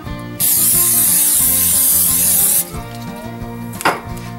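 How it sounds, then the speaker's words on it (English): Olive oil cooking spray hissing into a skillet for kielbasa, one loud continuous burst of about two seconds, followed by quieter kitchen sounds and a brief clatter. "I'll put me a little dash of olive oil spray in there"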